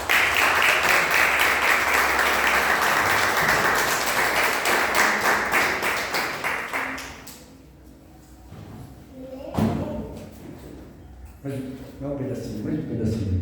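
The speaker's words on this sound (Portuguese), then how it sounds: "Palmas para o Senhor." Church congregation applauding during a sermon, a loud dense burst of clapping for several seconds that thins out, followed by scattered claps and voices.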